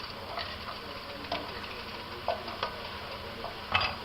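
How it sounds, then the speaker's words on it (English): A small red onion drops into a pan of beef stock, giving a faint, steady sizzle with scattered light clicks and scraping taps. No one speaks over it. "That's a red onion that I'm putting in there."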